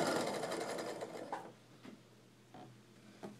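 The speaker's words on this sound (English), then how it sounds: "I'm putting it under the presser foot" A sewing machine stitches quilt block pieces in a fast, close, whirring run that stops after about a second and a half, followed by a few soft mechanical clicks and taps.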